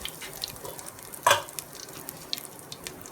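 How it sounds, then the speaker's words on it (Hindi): Chicken goes into a pan of frying ginger garlic paste, bringing one brief loud sizzling splash, then a low steady fry with faint stirring scrapes, close by. "यहाँ पे हमारा अदरक लहसुन का पेस्ट फ्राई हो चुका है। इसके अंदर हम चिकन डाल लेते हैं।"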